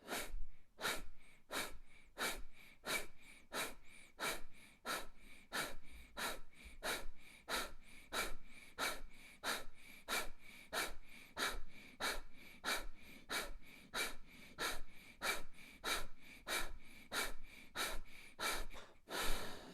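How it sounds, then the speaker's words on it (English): Forceful breathing exercise with sharp out-breaths driven by contracting the lower stomach, repeated as a steady pulsing series of loud, close huffs, about two per second, each followed by a soft passive in-breath. "you focus on the out-breath by forcefully contracting the lower stomach, and then the in-breath goes by itself"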